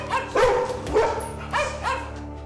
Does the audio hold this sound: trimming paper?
no